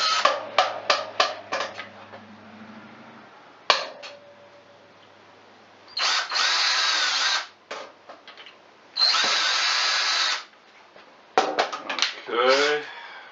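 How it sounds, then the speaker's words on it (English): A power drill pre-drills holes in a 2x4 wood board for a kids' swing, with several loud, close whirring bursts of a few seconds each separated by pauses, the motor winding up and down. "And pre-drill it again."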